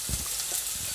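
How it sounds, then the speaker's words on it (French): Onions, shallots, garlic and ginger sizzle in a pan with a steady, close hiss and faint crackle, no voices. "on va commencer par mettre nos oignons, échalotes, ail, gingembre et tout"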